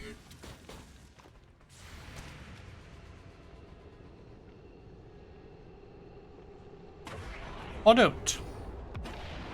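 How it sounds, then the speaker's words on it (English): Gunfire in the video game XCOM 2 comes as a few scattered booming shots over a low rumbling game soundtrack, with one louder burst near the end and a voice speaking briefly. "Open fire!"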